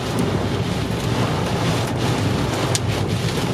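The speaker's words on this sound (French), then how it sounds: "avec de violentes rafales de vent et quelques gros grêlons par moment" Violent wind gusts roar steadily during an active thunderstorm with occasional large hailstones, a dense broadband rush buffeting the microphone for several seconds with faint sharp impacts and no voices.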